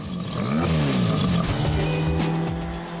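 Raspy four-cylinder car engine tuned by Gordini with dual carburetors, revving up and down in a few rising and falling sweeps, close and clear with no talk.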